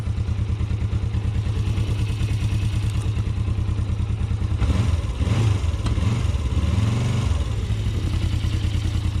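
A 1981 Suzuki GS450S motorcycle engine idles steadily at about 1,000 RPM, a close, loud, even rhythmic putter that thickens briefly midway with a little extra clatter.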